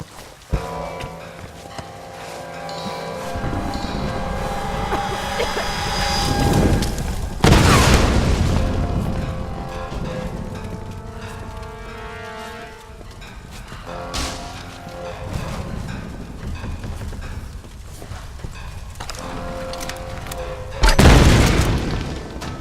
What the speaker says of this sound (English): adding incendiary ammo to the shotgun just isn't fair